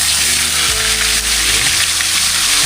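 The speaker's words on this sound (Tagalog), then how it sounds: "Tapos magprito naman tayo ngayon ng ating pang-ulam." Steady, dense sizzling of fish frying in hot oil, a continuous loud crackle with no talking.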